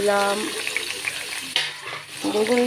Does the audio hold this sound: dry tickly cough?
no